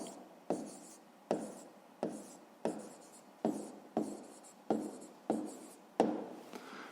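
Handwriting a maths answer on paper: a series of about nine short, regular pen or pencil strokes with soft scratching, fairly close and quiet, with no voices.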